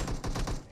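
Rapid bursts of gunfire in a battle royale video game crackle in a quick, dense volley, fairly faint and lasting under a second.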